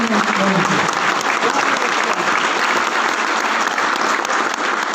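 A training audience claps loudly and steadily for several seconds, a dense wash of applause from many hands filling the room with no pause.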